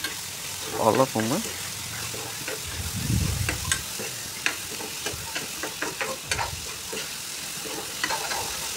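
Carrots, capsicum and tomato sizzle and fry in a pan for Schezwan fried rice, with steady crackling and a few stirring scrapes close by while a voice speaks briefly over the cooking.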